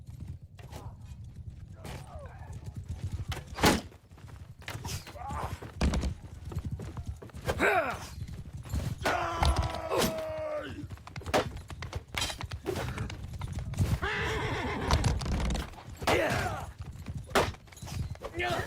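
Horses of horse archers in a video game battle keep up a busy clip-clop of hooves with an occasional whinny, while people talk over the top and scattered thunks break through.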